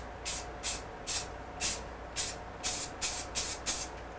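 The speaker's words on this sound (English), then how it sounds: "Is spraying around that tree. So I'm just short spurts." Nine short, sharp bursts from a spray gun hiss across a carved pine sign around a carved tree, each spurt lasting a fraction of a second with brief gaps between, over a low steady hum.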